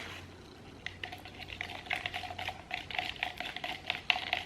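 A stick stirs white chalk paint in a small cup, giving a quick run of light clicking, tapping scrapes that grows busier, close and fairly quiet, with no talk.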